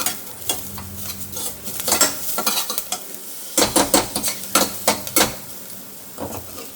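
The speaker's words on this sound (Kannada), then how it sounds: "ಮಶ್ರೂಮ್ ಮಿಕ್ಸ್ ಮಾಡ್ತಾಯಿದ್ದೀನಿ." Mushroom dry fry stirred in a pan with salt and coriander leaves, a spoon scraping and clinking against the metal in irregular bursts over a soft, steady sizzle.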